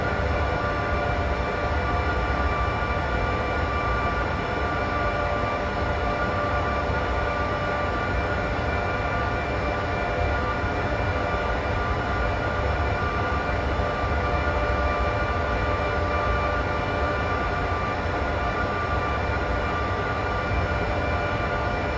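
An AI-controlled train passes on the Berlin–Leipzig line in Train Simulator 2016, a steady, loud rumbling roar that holds evenly throughout with no talking.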